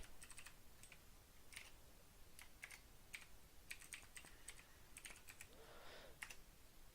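An email address being typed on a computer keyboard, a run of quiet, irregular key clicks with short pauses, close and faint over a low background hiss.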